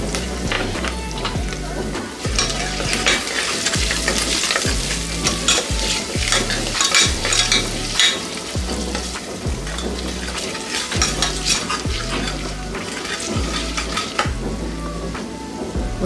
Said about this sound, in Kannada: ಒಂದು 30 ಸೆಕೆಂಡು ಈ ರೀತಿ ಇದನ್ನ ಫ್ರೈ ಮಾಡ್ಕೊಳ್ಳಿ ಸಾಕು.